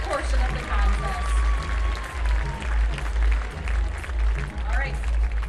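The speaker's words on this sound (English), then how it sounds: "And another round of applause for all of our ladies in that portion of the contest." Audience applause for pageant contestants at a fair tomato pageant, a steady burst of clapping from a crowd, loud and sustained over a low rumble.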